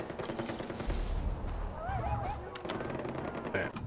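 Rapid gunfire in the open-world shooter Far Cry 4, bursts of automatic shots rattling at mid distance while a player talks over it.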